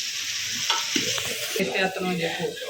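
A spoon stirs chicken fry masala with chilli powder and salt in a hot pan, scraping and clinking over a steady close sizzle of frying oil.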